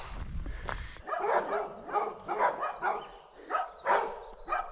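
Dogs kept in cages bark repeatedly from a moderate distance, several sharp barks and yips in an irregular series after a brief low rumble.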